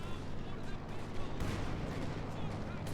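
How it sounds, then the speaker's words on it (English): Gunfire and explosions crackle in a World War II strategy video game battle, with dense overlapping bursts and booms under a commentator's voice. "This gunfire on the 222."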